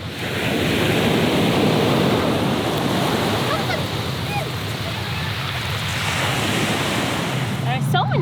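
Surf rolling onto the beach at Littlehampton makes a broad, continuous wash of breaking waves, mixed with gusty wind buffeting the microphone and faint voices.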